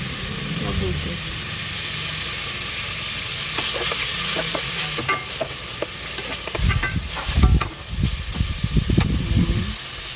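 Chicken pieces sautéed in a pan for sopas: a loud, continuous sizzle and hiss, with stirring and scraping strokes growing busier toward the end, and a voice talking over it.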